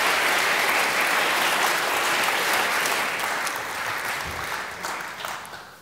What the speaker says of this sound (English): Could we give the three of them a round of applause